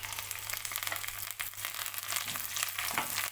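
Tempering spices sizzling and crackling steadily in hot oil in a pan for gongura chutney, a continuous close frying hiss with no talk.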